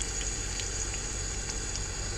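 Continuous crackling sizzle of oil frying on a cast iron griddle, steady and close, with faint pops scattered throughout and no talking.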